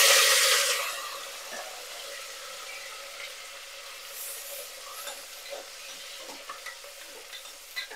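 Onions, green chilies and curry leaves sizzle in a pan for a biryani, a loud initial hiss settling into a softer steady fry with occasional stirring clicks, no talk.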